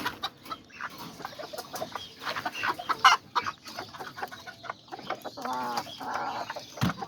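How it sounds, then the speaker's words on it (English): A young rooster clucks in short, irregular bursts close by, with other chickens and fowl noises scattered around it in a backyard coop. "I got this rooster"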